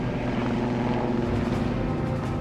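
A helicopter flying over the desert gives a steady, loud rotor and engine drone that fills the scene without pause and without voices.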